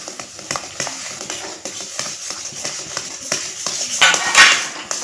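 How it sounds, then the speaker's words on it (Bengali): Rice flour and milk for sandesh being stirred continuously in a pan: close, busy scraping with frequent metallic clinks of the spoon against the pan, getting briefly louder near the end. "অনবরত নাড়াচাড়া করতে হবে এইভাবে ঘন ঘন"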